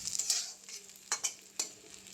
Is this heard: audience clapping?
no